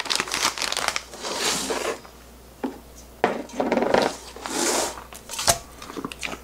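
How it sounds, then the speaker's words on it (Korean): A plastic package of corn jocheong rice syrup is torn open and poured into a cooking pot in a home kitchen, with several bursts of crinkling, rustling plastic separated by brief quiet pauses and occasional knocks. "조청을 뜯어서 넣겠습니다."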